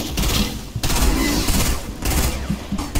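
Imperial gunfire in a Star Wars video game: a dense, continuous volley of loud, rapid shots with brief gaps, close and overlapping, with no voices.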